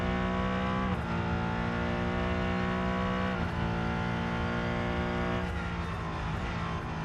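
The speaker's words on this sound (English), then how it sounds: "Bit of a gearbox whine there," Race car engine with gearbox whine from the Rennsport racing simulator, a steady layered mechanical drone with whining harmonics that dip at shifts around each gear change, loud and continuous without talk.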